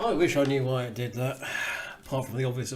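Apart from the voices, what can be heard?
No everyday noises stand out.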